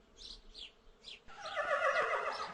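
A horse gives a whinny that rises into a loud, breathy, textured neigh over about a second. Short high chirps sound before it.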